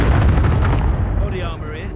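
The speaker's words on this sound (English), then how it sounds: "Oh, cluster strike away." Cluster strike explosions from Call of Duty set in Verdansk, a loud continuous rumble of booming blasts that fills the whole stretch and slowly tapers off, with voices talking over the barrage.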